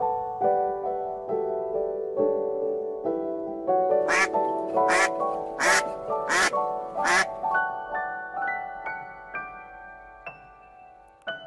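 A duck quacks in a series of nasal, buzzy calls, several loud and close together in the middle, over a soft backdrop of tonal music, with no talking.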